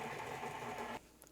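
An electric mixer runs on low through chocolate cake batter made with strong coffee and maple syrup, giving a steady close whir for about a second before cutting off.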